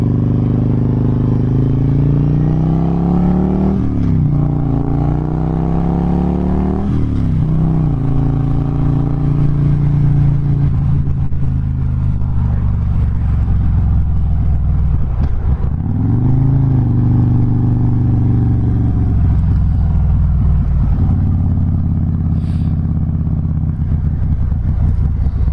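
Riding in traffic on an '08 Harley-Davidson Road King with a Twin Cam engine: a steady, loud, close engine rumble throughout, rising and falling as the bike revs and shifts, with no talking.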